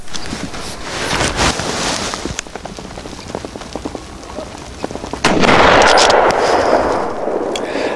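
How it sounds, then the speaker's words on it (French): Gunshots fired at a wild boar running at full speed during a hunt in Hungary, sharp loud reports breaking over rustling outdoor noise, with a harsher rushing burst later. "Là, c'est Franz qui tire un sanglier à 80 mètres alors qu'il était lancé à pleine vitesse"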